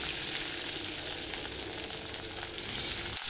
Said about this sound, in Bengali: লবণ হলুদ মাখানো মাছগুলো বেশ কড়া করেই ভেজে নেব।